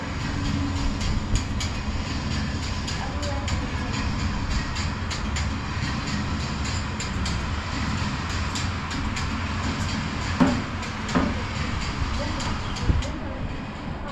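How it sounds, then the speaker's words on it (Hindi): Model electric train with a horn-like pantograph running on a miniature railway layout at a museum in Pune, a steady rolling rumble with faint clicks throughout, a few sharper knocks near the end, and possible voices low in the mix. "तो ये थी बिजली की सहायता से चलने वाली रेलगाड़ी।"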